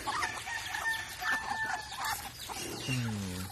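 Chickens cluck and cackle in a busy, overlapping chorus, with a rooster-like call rising near the end, fairly close and continuous.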